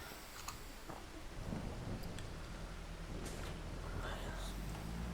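In Farming Simulator 25, rain hisses steadily and low thunder rolls in the distance, with a few scattered drops, all faint under a voice talking.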